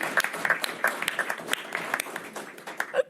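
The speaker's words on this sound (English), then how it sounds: "Can we have just one last round of applause for everyone who has served in his service?" An audience at a veteran advisory board meeting applauds steadily, with dense overlapping claps that are moderately loud and fill the room for the whole short clip.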